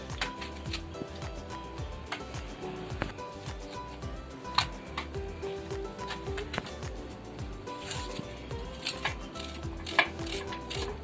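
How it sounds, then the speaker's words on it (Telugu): Brinjals being cut with a knife and dropped into salted water in a home kitchen for a stuffed brinjal curry, with steady clinking and chopping sounds and the knock of pots and utensils, close and moderately loud throughout, with no talking. "ముందుగా నీళ్ళు తీసుకుని ఉప్పేసి వంకాయలు కట్ చేసుకుందాం"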